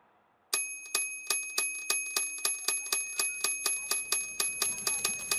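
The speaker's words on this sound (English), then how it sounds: "The news flash comes across the wire, the one with the bells ringing like crazy." A news wire alert bell rings rapidly and repeatedly, a rhythmic string of bright metallic dings starting abruptly after a brief quiet moment and continuing steadily, clear and close.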